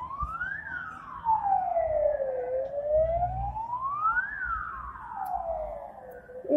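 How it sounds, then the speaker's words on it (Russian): Ambulance siren wailing as the emergency vehicle passes along the street in the oncoming lane, rising and falling in slow sweeps, loud and fairly near over low traffic rumble. "Скорая по встречной полосе."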